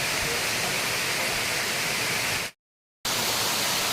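The Sesharai waterfall gives a steady, dense roar of rushing water, close and loud. The sound cuts out abruptly for about half a second, then the same constant roar resumes.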